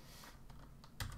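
Someone types on a computer keyboard, giving quiet, scattered key clicks and a slightly louder cluster of taps near the end. No voice is heard.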